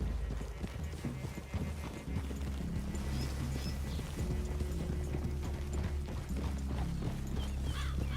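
Horses' hooves clop steadily and close in Red Dead Redemption 2, a continuous rhythmic trot of several horses with low mechanical creaks and almost no talk.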